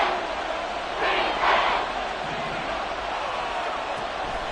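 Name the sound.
stadium crowd noise in Madden 24 video game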